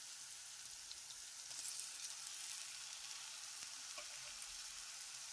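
Tomatoes fry in a pan with ginger-garlic paste for an egg pepper dish, making a steady, even hiss of sizzling oil that runs throughout with no talk.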